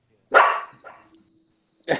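A dog barks indoors during a home podcast recording: one loud bark, a softer short follow-up, then a second sharp bark after a pause of silence.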